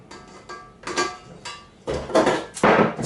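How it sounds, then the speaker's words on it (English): A dough scraper scraping herb fougasse dough off a mixer's dough hook, a series of short metallic scrapes and knocks, irregular and close, building louder toward the end. "Now we'll just use a dough scraper to clear that off the dough hook."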